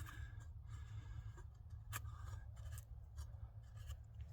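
A large Tops El Chete knife carves curls from wood, giving quiet, close scraping and rasping strokes that come in a loose, repeated rhythm.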